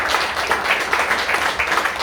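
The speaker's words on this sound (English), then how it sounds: "Let us give him a big round of applause" A crowd at a community leaders' luncheon applauding steadily, dense clapping filling the whole stretch at an even, moderately loud level.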